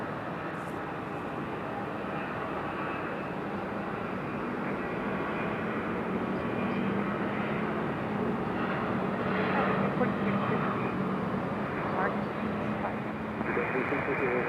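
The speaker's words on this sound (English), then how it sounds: "737-700. Southwest doing Southwest things. Turning and burning." A Southwest Airlines Boeing 737-700 departs from Raleigh-Durham International, its steady jet roar filling the air at moderate distance and holding evenly throughout, with a voice talking over it at times.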